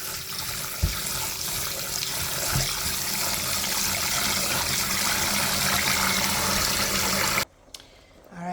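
Rice is washed under a running kitchen tap, a loud steady gush of water splashing for several seconds before cutting off abruptly, followed by a short quiet stretch.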